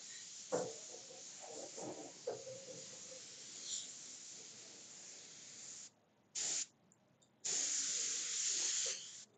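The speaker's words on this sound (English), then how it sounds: "you're just gonna spray air to get the dust out" Sustained hissing spray of compressed air, broken by short pauses and a few sharp bursts near the end, with faint handling clatter early on.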